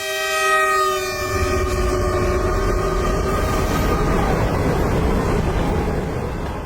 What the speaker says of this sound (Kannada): ಫುಲ್ ಖಾಲಿ ಟ್ರೈನ್ ಹೋಗ್ತಾ ಇದ್ದಂಗೆ ಐತೆ